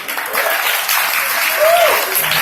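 Audience applause at a comic con panel, a steady dense wash of clapping that fills the hall evenly throughout, with a brief voice briefly rising through the noise.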